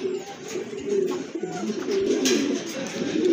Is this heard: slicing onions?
no